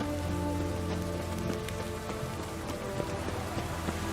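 Steady rain falls in The Witcher 3: Heart of Stone, a dense, even patter of drops hitting surfaces that carries on unbroken throughout, with faint game sounds underneath.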